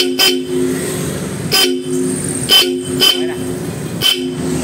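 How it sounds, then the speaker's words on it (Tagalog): Bosch Europa horns fitted to a Nissan Navara sound in loud, close bursts of two-tone honking, around five short blasts spaced a second or so apart during a test. "testingin natin yung busina natin kung gumagana na"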